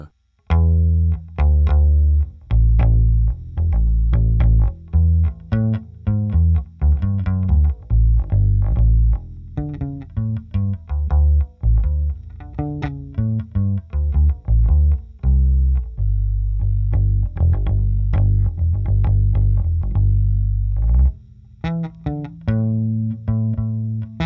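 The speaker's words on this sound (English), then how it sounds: "that's my P-bass sound on a jazz bass" A Squier Vintage Modified 70s Jazz Bass plucked with the fingers runs through a busy, punchy line of quick notes, deep and forward, with a few brief pauses.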